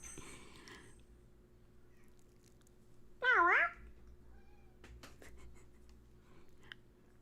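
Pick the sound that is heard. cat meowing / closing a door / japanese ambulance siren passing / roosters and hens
cat meowing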